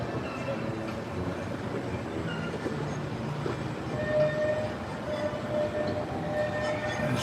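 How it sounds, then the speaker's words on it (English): A Disneyland train rolling past, a steady low rumble of wheels on track that swells slightly midway, with faint higher squeals and a brief distant voice underneath. "We get the train there. See it just ripping through."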